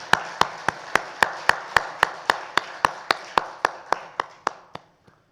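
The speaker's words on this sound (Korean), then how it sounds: "하나님께 영광의 박수 올려드립니다." A church congregation at a Sunday worship service claps together in a steady, even rhythm, about twenty sharp claps close together, tapering off at the end with no talking.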